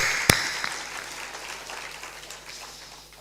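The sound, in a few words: audience clapping applause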